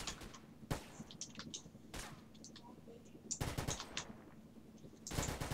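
Bursts of gunfire in GTA San Andreas, a video game, arriving in loud broadband volleys about every one to one and a half seconds with rapid crackling shots between, over a steady low game hum.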